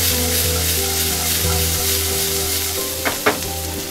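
Vegetables sizzle steadily in a hot pan for Yippee masala noodles, a dense, continuous frying hiss with a couple of brief stirring clatters near the end.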